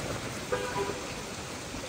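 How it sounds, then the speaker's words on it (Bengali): Rain falls steadily in a soft, continuous hiss, a brief stretch ending in a sharp knock. "অনেক বৃষ্টি হচ্ছে, জানি না কতটুকু বোঝা যাচ্ছে"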